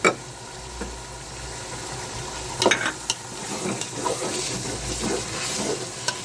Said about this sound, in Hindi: तो सारी चीज़ें इसी वक्त डालेंगे, और सब सब्जियों को भी हम अच्छी तरह से भूनेंगे